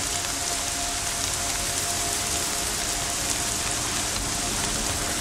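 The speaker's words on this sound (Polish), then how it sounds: "Deszcz pada," Steady rain falls in the Horizon Zero Dawn video game, a dense even hiss of drops on surfaces that holds at the same level the whole time with no voices.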